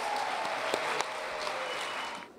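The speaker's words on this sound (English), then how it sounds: "Let's give them all a big round of applause." An audience at an awards dinner claps in a dense, steady round of applause that holds evenly for about two seconds before quickly fading out.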